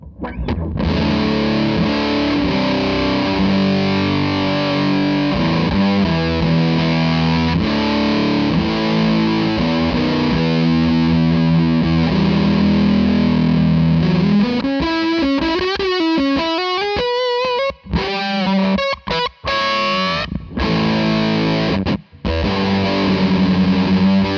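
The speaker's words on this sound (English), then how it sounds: "you're going to cut through with the Big Muff" Electric guitar through a Big Muff fuzz pedal, heavily distorted with thick fuzz, sustained chords giving way to bending, wavering lead notes and choppy stops, loud and dense throughout.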